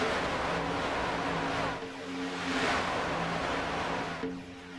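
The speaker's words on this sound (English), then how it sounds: "All the trucks blasting by full song." Legacy Silverado racing trucks in iRacing roar past in a dense pack on a superspeedway, a loud sustained engine drone with layered tones swelling and fading as they blast by, no talk.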